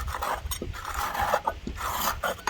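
A tool rasps and scrapes steadily across the underside of a Masport Rotarola mower deck, rough grinding strokes continuing close up with brief pauses and no voices.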